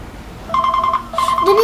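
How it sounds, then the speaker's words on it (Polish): A mobile phone rings with repeated bright electronic tone bursts in two loud rounds, with game audio underneath and no speech. "mój telefon dzwoni"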